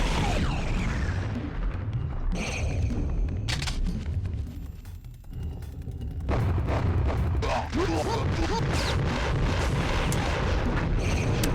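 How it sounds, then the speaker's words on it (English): A video game flamethrower roaring in a dense, loud whooshing blast with crackling bursts, a brief dip in the middle before the rushing fire resumes. "This game's flamethrower is pretty good."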